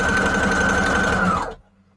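A sewing machine stitches paper scraps into craft embellishments, its steady, close mechanical whir running for about a second and a half before cutting off abruptly into near silence.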